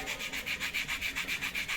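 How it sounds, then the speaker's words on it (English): Fine sandpaper rubs a balsa wood model aircraft in quick, steady back-and-forth strokes, about a dozen even raspy passes, close and fairly quiet. "If you require, you can do a little bit of fine sanding to make your model look much"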